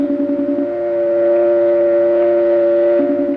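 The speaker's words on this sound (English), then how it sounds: "Listen for the dial tone. It sounds like this." A steady, continuous telephone dial tone hums unbroken for several seconds, clear and close, with no voices over it.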